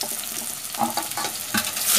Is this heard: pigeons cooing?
no